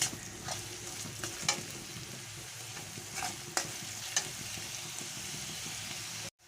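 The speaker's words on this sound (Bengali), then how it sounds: "দিয়ে আমি পেঁয়াজটাকে ভালো করে ভেজে নেব" Onions with a little sugar and salt fry in a pan, a steady close sizzle broken by the scrape and clack of a spoon stirring at irregular moments, with no talk.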